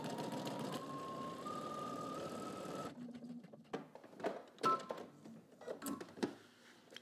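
A home sewing machine fitted with a buttonhole foot stitches buttonholes in a steady, continuous whir for about three seconds, then falls to scattered clicks and handling knocks.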